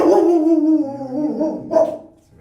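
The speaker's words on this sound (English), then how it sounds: "got good dogs in here today" Several dogs bark and whimper in a shelter kennel, loud and close, with yips trailing off into a quieter whine; no talk over them.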